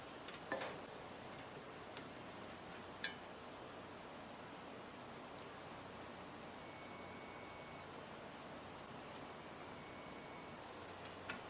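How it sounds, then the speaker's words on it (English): Steady high-pitched continuity beeps from a multimeter testing a microwave oven's thermal switch and line fuse, two sustained tones about a second long each, over faint background hiss with a few soft clicks. "You should hear a beeping sound and get a very low resistance reading."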